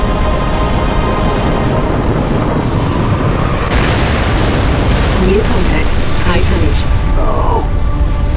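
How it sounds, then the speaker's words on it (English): A MAC round strike explodes in the Halo Reach video game, a dense, continuous roar of booming blasts and rumbling debris that stays loud throughout, with a sharper surge midway and faint voices underneath. "Frigate 318 Heavy is inbound, and MAC rounds have been authorized."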